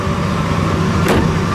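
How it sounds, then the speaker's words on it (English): A single solid thump from a door of a 1966 Impala lands about a second in, standing out briefly against a steady, fairly loud background rumble. "Doors open and close, excellent."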